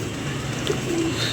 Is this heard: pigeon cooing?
yes